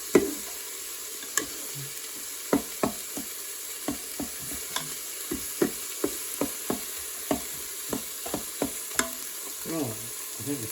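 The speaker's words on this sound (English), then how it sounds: "Just get this egg scrambled." Egg being scrambled in a frying pan, with a steady sizzle under a run of sharp utensil taps and scrapes against the pan at an irregular rhythm, close and fairly quiet.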